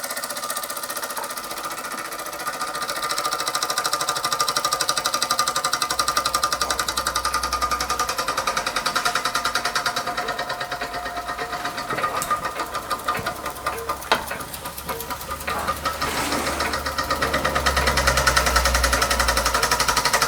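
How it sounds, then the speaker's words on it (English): A 1948 Mamod Minor 2 model steam engine runs steadily with a rapid, even mechanical chatter and a low hum, continuous and fairly close throughout. "That is a very nice engine. Very nice indeed. Good runner. Fairly quiet."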